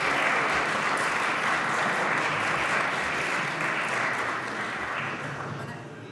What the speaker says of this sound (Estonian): Võite plaksutada.